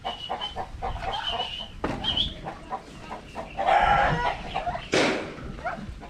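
Rhode Island Red chickens cluck and squawk close by, with a rooster crowing loudly near the middle and another sharp call toward the end, all over soft farmyard noise.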